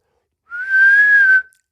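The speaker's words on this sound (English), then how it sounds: "I never knew you could whistle." A single clear, steady whistled note from a person, held for about a second, loud and close with silence around it.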